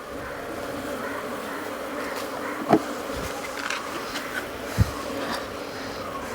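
Honey bees buzz in a continuous dense drone around a cleaned wooden beehive during beekeeping, with individual bees passing close to the microphone now and then.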